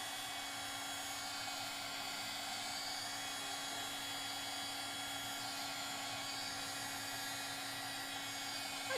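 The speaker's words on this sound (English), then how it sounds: "I'm speeding up with my Ryobi heat gun" A Ryobi heat gun blows without a break to dry glue on a prop build, a steady, fairly faint whooshing hum with a fixed tonal whine that lasts the whole time.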